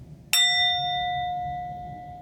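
A single bell is struck once and rings out with a clear, sustained metallic tone that slowly fades while a quiet room hum continues beneath it, with no voices.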